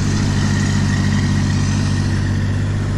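An old tractor in four-wheel drive lock runs on a snow day, its engine holding a steady, loud low rumble with even harmonic throb and no break throughout.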